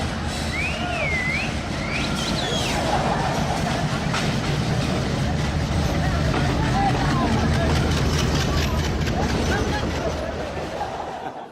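A train rolls past in a steady, loud rumble, with scattered chirps and a murmur of background voices mixed in throughout.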